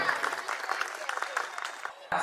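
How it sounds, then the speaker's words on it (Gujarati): Steady applause from a crowd at a community gathering, a dense patter of many hands clapping at moderate distance, briefly dipping near the end before picking up again. "ખૂબ જ તાળીઓથી આપણે દાતાશ્રીઓને વધાવીએ"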